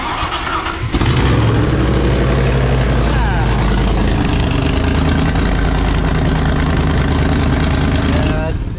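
A car engine fires up after an engine transplant, a sudden catch into a loud rough idle that keeps running and revving unevenly close by, with people talking under it.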